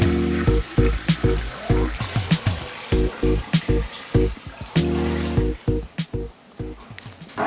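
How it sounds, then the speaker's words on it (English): Water being poured into a fish tank over rocks, a close, uneven stream of splashing and gurgling bursts with brief pauses, loud and continuous for several seconds. "Now it's time to add the water. You want to fill it up until it's an inch from the top."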